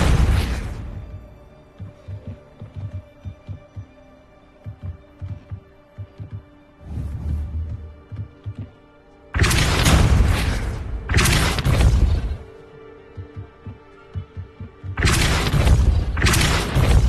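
In Hogwarts Legacy, the Depulso force spell lands with deep booming thuds, first a few softer low pulses and then three heavy loud bursts spaced a few seconds apart over a low hum.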